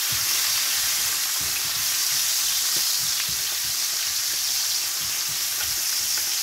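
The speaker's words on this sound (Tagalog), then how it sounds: "habang ako nagpiprito na isda" Steady, crackling sizzle of fish frying in hot oil, a dense continuous hiss with small pops scattered throughout, close and fairly loud.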